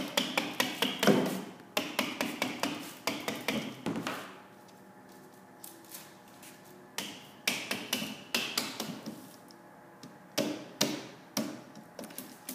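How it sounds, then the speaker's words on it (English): Pieces of aluminium extrusion are tapped together during assembly, giving sharp, close knocks in quick bursts separated by short quiet gaps. "So he just starts it on one side and then taps it all together."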